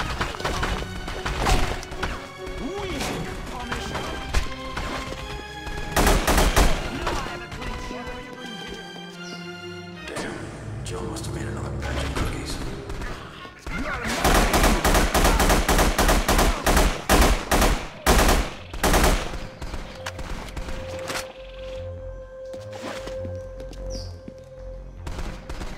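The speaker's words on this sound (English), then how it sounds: "More shooting!" Gunfire in The Punisher video game rattles in dense rapid bursts and scattered single shots, loud and close, with thuds and impacts mixed in and voices shouting between volleys.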